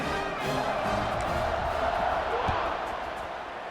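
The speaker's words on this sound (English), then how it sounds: "this crowd is buzzing after that last score" Stadium crowd in College Football 26, a Drake versus Bowling Green game, buzzing after a short-yardage touchdown before the kickoff. A steady, loud roar of cheering fills the whole stretch and eases slightly toward the end.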